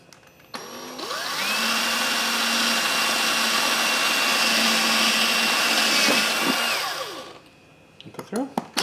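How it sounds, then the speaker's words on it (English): A power drill whirs up to speed while drilling holes for a security light camera install in a garage, runs at a steady high-pitched whine for several seconds, then winds down, followed by a few clicks and knocks. "I'm going to drill these other holes."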